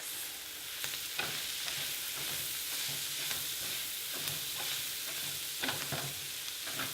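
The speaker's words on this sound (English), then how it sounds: "So in goes my flavours. And give that a good mix." Turmeric and spices being stirred in a hot cooking pan for noodles, a soft continuous sizzle with faint scraping strokes of the spoon recurring now and then.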